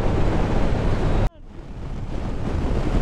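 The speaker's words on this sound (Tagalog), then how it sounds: "Lakas ng hangin." Loud, roaring wind buffets the microphone on a motorcycle ride in Tarlac, Philippines, cutting out abruptly for a moment before the gusty rumble returns and steadily builds again.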